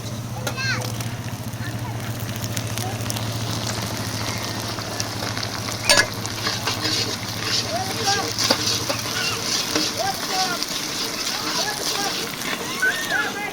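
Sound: chopped tomato added to fried onion, sizzling in pan

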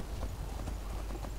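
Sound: horse hooves clip-clopping in video game Skyrim

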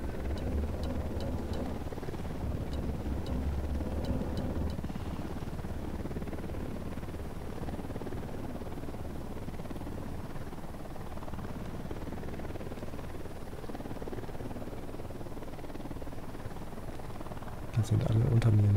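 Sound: approaching helicopter in Ghost Recon Wildlands video game

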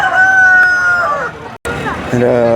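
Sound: chickens at a temple, rooster crowing

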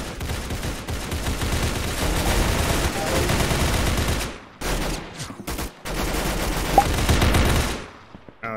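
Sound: AK gunfire in video game Roblox Arsenal

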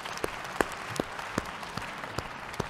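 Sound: applause

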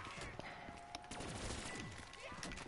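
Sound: mine explosion in a video game

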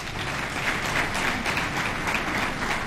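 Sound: audience applause

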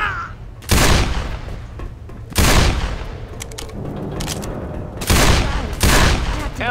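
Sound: gunfire in the video game Left 4 Dead

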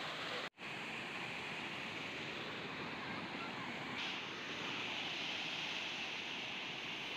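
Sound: small seasonal waterfall, water flowing forcefully

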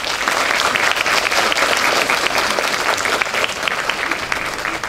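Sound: applause welcoming a lecturer

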